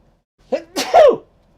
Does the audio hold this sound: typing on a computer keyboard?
no